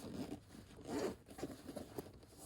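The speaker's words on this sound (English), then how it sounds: "Nice little zippered pocket up front." A zipper slides open on the front pouch of a DJI Air 2S Fly More Combo drone bag, giving a quiet, close series of short ratcheting rasps in quick bursts.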